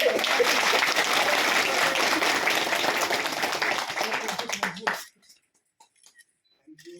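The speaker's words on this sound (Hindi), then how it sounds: "मैम को एक बार जोरदार तालियां" An audience gives loud, dense applause at a women's millet training event in Joshimath; the clapping runs steadily for about five seconds, then stops abruptly, leaving near silence with a few faint sounds.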